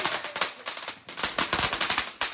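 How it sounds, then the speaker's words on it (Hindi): A lollipop-type firecracker going off during Choti Diwali, firing a loud rapid string of sharp cracking bangs in uneven bursts, close by and with no talk. "अभी चलाते हैं अपना सबसे फेवरेट पटाखा लॉलीपॉप वाला"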